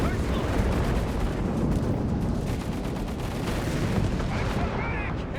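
Grenade explosions and gunfire in the Company of Heroes 3 strategy game, a dense and continuous wash of booms and blasts, loud and unbroken throughout.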